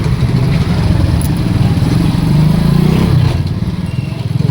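A motorcycle engine runs steadily while riding, a loud, rough, continuous mid-range drone with wind buffeting and no break.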